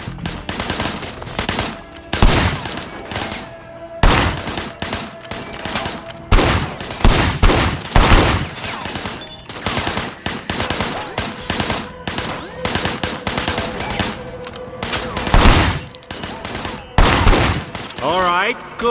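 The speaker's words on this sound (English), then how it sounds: "I want you to put some bullets in a few things." Rapid bursts of automatic gunfire from the video game Sleeping Dogs, loud and close, firing at objects in repeated volleys separated by short pauses.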